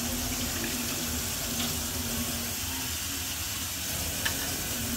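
Tap water runs steadily into a pot or sink in a kitchen while shirataki rice is being cooked, a constant hissing rush with a low hum underneath and no talking.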